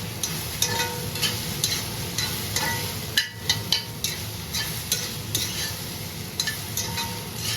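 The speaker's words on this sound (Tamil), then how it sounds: "இதோட சேர்த்து நல்லா வதக்கிக்கலாம்" Onions sauté with turmeric in a pan, a low bubbling sizzle running throughout while a utensil scrapes and knocks the pan again and again at an uneven pace, close up and with no speech.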